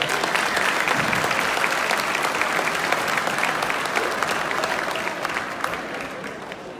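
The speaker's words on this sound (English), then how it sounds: "Let's give them a great big round of applause." Big round of applause from a dinner audience at an air show banquet, dense sustained clapping from many people that holds steady and eases slightly toward the end.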